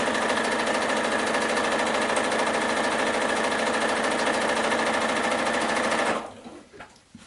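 Sewing machine chain piecing quilt fabric, a fast, steady mechanical whir running loud and close for about six seconds before stopping abruptly, followed by faint handling sounds.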